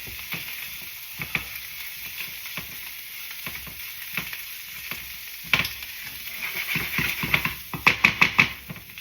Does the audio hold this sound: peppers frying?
yes